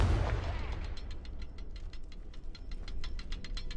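A Confringo spell blast in Hogwarts Legacy opens with a short, loud burst, then settles into a quieter rumbling backdrop under a steady run of rapid mechanical ticks.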